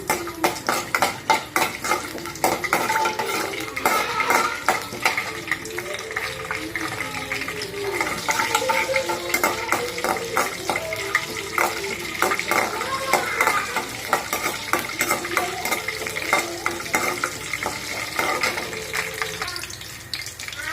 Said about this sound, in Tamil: தாளிக்கிறதுக்கு கடுகு, கடலப்பருப்பு போட்டுக்கலாம்.